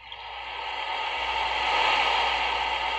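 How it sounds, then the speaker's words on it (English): A steady, loud rush of water swells in over the first second and then holds as a constant broad hiss. "That's rushing water."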